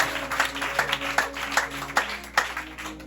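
A church congregation claps in steady rhythm to acclaim Jesus, about two to three claps per second, with crowd noise and some singing or voices mixed underneath.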